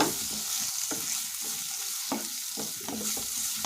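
Chili powder frying in a pan for a bitter gourd and tomato onion masala, a continuous dense sizzle with repeated stirring scrapes, close and steady without any voice.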